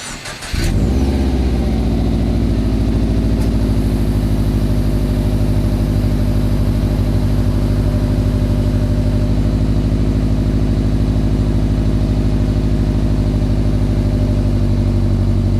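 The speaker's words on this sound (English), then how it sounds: "I'm going to go ahead and give you a cold exhaust startup" A 2011 Subaru WRX exhaust barks into life on a cold start, then settles into a steady, loud, close-up idle with a deep, even rumble that holds to the end.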